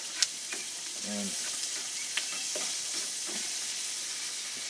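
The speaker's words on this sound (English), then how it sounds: "just let these onions keep sweating down." Onions sweating down in a pan for beer and bacon muffins, a constant soft sizzle with occasional spoon scrapes and taps, close and alone without talk.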